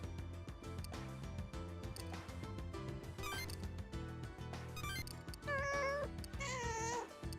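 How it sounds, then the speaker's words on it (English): Meowing cat sounds from the Devil Survivor 2 video game, sharp and wavering, come over a steady bed of game music and close out the final seconds loudly. "we heard the cat sound"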